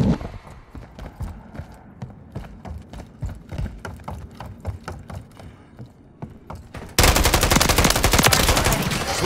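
Call of Duty Modern Warfare 3 gunfire, a long run of close, sharp automatic shots in uneven bursts, then a sudden harsh, dense wall of continuous fire and noise for the last couple of seconds.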